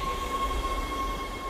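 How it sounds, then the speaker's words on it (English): A tram in the game Dead Space pulls into a station with a continuous mechanical rumble and a steady high electrical whine, dense and loud throughout, with no talking. "Tram arriving at flight deck station."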